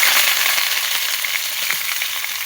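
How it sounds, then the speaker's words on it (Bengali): Cauliflower pieces fry in hot oil in a pan, giving a loud, steady crackling sizzle close up that runs the whole time without any voices. "ওই তেলের মধ্যে আমি ফুলকপিগুলো ভেজে নেব।"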